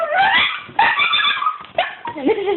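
A pet dog makes strange whiny, yipping noises at a cat, bursts of high squeaky whimpers and barks close and loud with only a few pauses.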